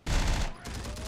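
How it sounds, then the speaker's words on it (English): Dense burst of rapid gunfire in the video game Terminator: Dark Fate - Defiance, loud and close with overlapping shots rattling continuously for about a second. "Enemy fire!"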